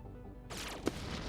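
Spaceship explosion in the strategy game Endless Space 2: a sudden burst of loud, broad noise with a sharp crack in the middle, then a sustained rumbling roar that keeps going to the end.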